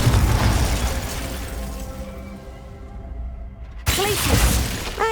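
A Confringo fire spell blast and shattering in the Hogwarts Legacy video game: a loud crackling roar that slowly fades, then a sudden sharp burst with swooping tonal whooshes, no voices.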